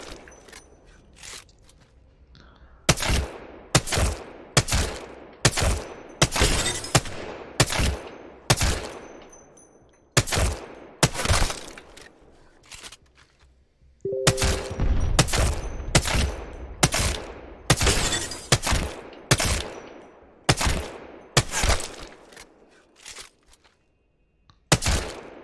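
Rapid gunfire from Apex Legends aim practice, with pairs of sharp shots repeating in steady bursts, loud and close, separated by short pauses and a brief reload gap.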